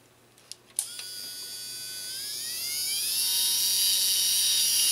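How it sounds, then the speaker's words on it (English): A spin welder welds an old plastic tab on a 1977 Tandy digital computer kit, starting after a few faint clicks with a high whine that climbs steadily in pitch and grows louder, heard up close with no voices. "Looks like it's time to bring out the old spin welder."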